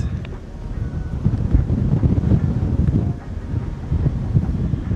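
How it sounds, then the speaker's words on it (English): Strong gusts of wind buffet the microphone on a long bridge over a river in Jamaica, a low rumbling roar that surges and eases, with faint water movement in the background. "The wind is picking up, man."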